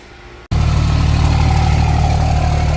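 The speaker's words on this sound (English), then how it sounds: "I added a little turnout to the exhaust, but that's what it sounds like." Cummins diesel engine idling through a 5-inch stainless steel exhaust with a turned-out tip, starting abruptly after a brief quiet moment, then a loud, steady deep rumble close by.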